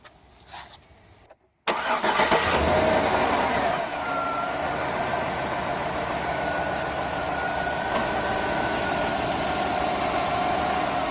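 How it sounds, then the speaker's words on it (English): A Chevy Suburban engine cranks and catches after a short quiet stretch, then settles into a loud, steady idle that runs close by for the remaining seconds. "So we'll start the engine, get it maybe 2/3 or 3/4 of the way up"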